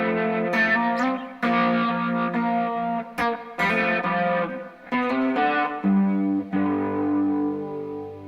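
Electric guitar chords and notes ring out with roomy reverb and a gentle wavering modulation, played in short phrases with brief pauses between them.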